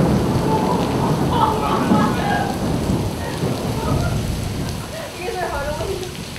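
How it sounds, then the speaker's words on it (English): Heavy rain pours down during an outdoor film shoot, a loud continuous hiss of drops hitting surfaces with a low rumble underneath, steady throughout with faint voices mixed in. "it starts pouring down rain"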